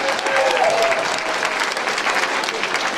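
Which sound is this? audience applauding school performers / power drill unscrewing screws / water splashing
audience applauding school performers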